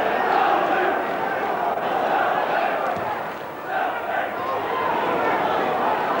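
Football crowd at a Derby County League Cup match against Southend United, a steady loud roar of massed voices that swells and dips briefly midway, with commentary speech running over it.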